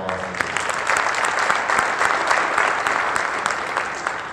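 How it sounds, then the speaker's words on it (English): Audience applause at a North Rockland school district sports awards ceremony: dense, steady clapping from a crowd, fairly loud and continuous from start to finish. "So a round of applause."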